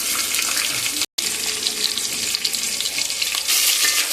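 Chopped onions hitting hot oil with fried biryani spices for chicken biryani, a loud, dense, continuous sizzle close by with a brief dropout near the start.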